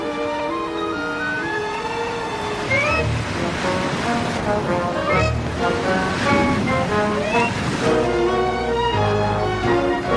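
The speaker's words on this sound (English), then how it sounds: "The storm's getting worse." Loud, continuous surge of stormy sea waves crashing, with music-like tonal layers playing over the churning water throughout.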